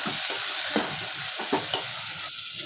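Tomatoes fry in hot oil in a pan, a dense steady sizzle with a few soft stirring scrapes and no voices.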